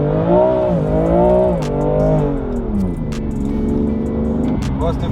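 BMW car engine in M2 mode revving hard during a high-speed drift around 160 km/h, a loud sustained rising and falling engine drone with a brief shift near the end.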